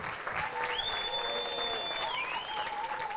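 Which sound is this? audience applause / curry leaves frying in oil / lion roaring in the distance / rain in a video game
audience applause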